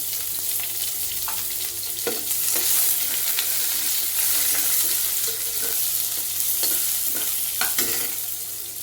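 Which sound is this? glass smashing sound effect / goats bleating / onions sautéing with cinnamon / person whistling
onions sautéing with cinnamon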